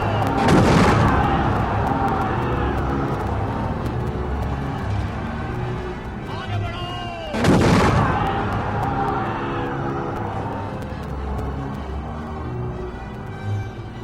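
Cannon fire and gunpowder blasts in an animated film about Tipu Sultan, with two loud booming explosions several seconds apart over a busy, noisy battle soundtrack.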